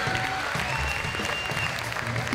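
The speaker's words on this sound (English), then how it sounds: "Let's give another round of applause to the Pride of 2016" Steady applause from an audience at a North Carolina Central University Pride signing day event, continuous and dense throughout.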